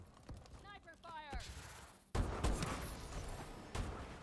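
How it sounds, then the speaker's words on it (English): Gunfire from the Call of Duty: Advanced Warfare online match rings out in sharp sudden cracks over busy in-game noise, with a voice and a whistling sound heard just before the shots. "Sniper fire."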